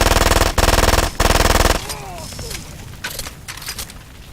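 Automatic gunfire in the video game Far Cry 2, loud rapid bursts with a short gap between them, followed by scattered booms and fainter shots.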